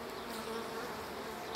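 Honeybees buzz at a hive frame in a continuous, dense drone that stays steady and close, with no voices.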